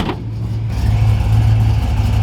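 A Ford Fox car engine revs up and holds a steady, throaty drone, loud and close, with a brief rise at the start.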